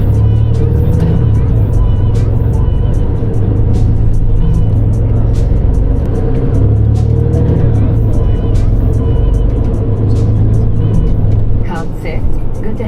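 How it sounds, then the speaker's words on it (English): Road traffic of Mercedes taxis rolls past on a street, a loud steady low engine rumble with vehicles passing close by, continuous and without speech. "The taxis here are full on Mercedes."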